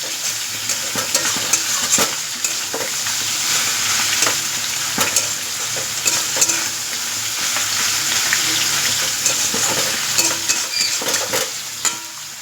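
Banana flower (mocha) frying in a pan, a continuous loud sizzle punctuated by frequent spatula scrapes and utensil clinks, close up and steady throughout with no voices.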